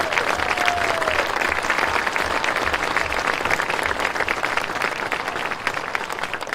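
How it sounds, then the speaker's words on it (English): A crowd at a Manitowoc Lutheran High School gathering applauds school sports achievements, a thick, sustained wash of clapping that stays loud and even throughout without any speech. "Let's have a round of applause for those accomplishments."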